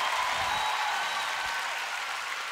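A concert crowd at a show applauds steadily, a broad wash of clapping heard at moderate level from a distance, with a faint sustained tone running through it.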